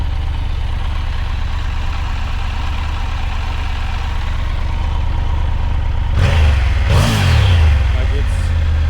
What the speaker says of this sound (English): so this is what the bike sounds like